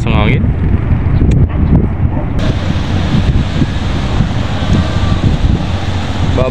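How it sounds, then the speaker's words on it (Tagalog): Heavy wind buffets the microphone on the deck of the ferry MV Virgen de Piñafrancia XII between Marinduque and Lucena, over a rumble of surf and water, while a voice speaks briefly at the start. "Lakas ng hangin."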